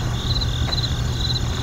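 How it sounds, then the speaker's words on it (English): Crickets chirp as a sound effect, a steady high-pitched trill in short repeated bursts over a quiet low background hum. "Crickets."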